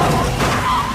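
Car skidding in a police chase that ends in a crash into two other drivers, heard as a loud, continuous tire skid and engine roar for about a second, with no clear impact in the span.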